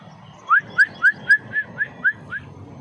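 A person whistles near tiny hatchlings in a nest on a bonsai tree: eight short rising whistle notes in an even, quick rhythm, clear and close, over faint low background noise.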